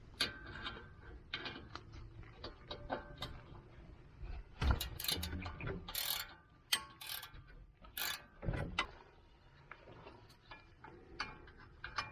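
A socket wrench with a 12-point M10 low-profile bit working the brake caliper bracket bolts on a 2018+ Audi S4 B9, giving irregular ratcheting clicks and metallic knocks, close and fairly quiet.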